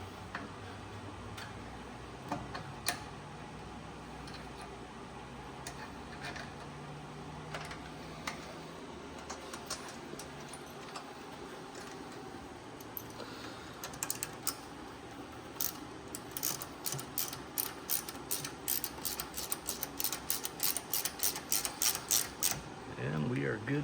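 Ratchet wrench tightening a fastener during a Power Latch installation, giving rapid rhythmic clicks that speed up and grow louder in the second half, with some talking heard faintly in the background.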